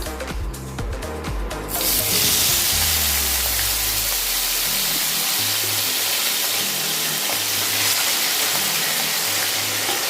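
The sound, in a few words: small fish frying in hot oil in a wok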